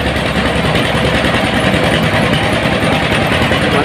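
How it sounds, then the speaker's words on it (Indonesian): A rice milling machine runs steadily in a village on a harvest-season morning, a loud continuous mechanical drone with rattling, vibrating texture and no talk over it. "itu kayaknya di depan ada mesin penggiling padi"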